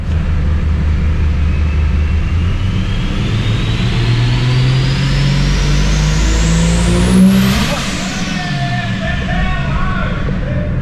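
A Ford Barra turbo car engine revs hard on a hub dyno, climbing steadily in pitch for about seven seconds, then drops off sharply and settles into a lower running drone, loud and close throughout.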